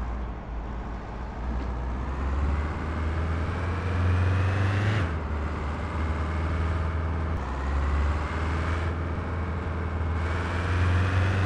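In a truck and logistics simulator game, a truck engine drones steadily and loudly, with a deep rumble throughout and a couple of gear-shift drops and re-climbs as the vehicle gets moving.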